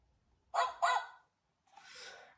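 Two quick barks from a cartoon dog close together, followed after a pause by a softer, breathy vocal sound.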